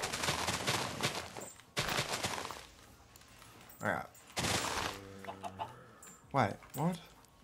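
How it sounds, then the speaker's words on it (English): Chickens in Minecraft give several short clucks near the end, following loud bursts of other blocky game noise earlier on. "Okay, so we got chickens."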